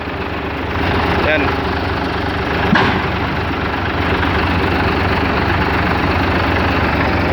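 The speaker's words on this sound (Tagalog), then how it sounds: "Nako, maingay ang makina." The 24-valve engine of a 2012 FAW truck idles loudly in a steady low rumble that carries on through the whole stretch, with one brief clank partway and a voice speaking over it.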